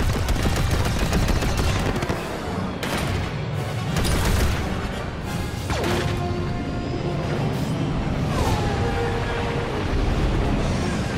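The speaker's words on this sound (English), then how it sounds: "Taking fire!" Blaster fire rattles in rapid bursts during a Star Wars Battlefront II starfighter assault, with repeated sharp shots and booms layered over a dense, continuous battle din.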